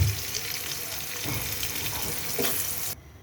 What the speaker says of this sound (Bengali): এটার সাথে দিয়ে দিলাম তেলের ভিতরে একটু ভেজে নেবো